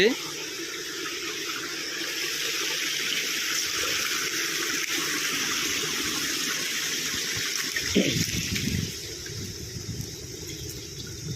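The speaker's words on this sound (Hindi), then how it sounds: "नदीर पानी कुड़ू कुड़ू शब्द हो" A river in a dense forest in the Similipal tiger reserve gushes and gurgles steadily at moderate volume, a broad continuous rush with someone talking over part of it.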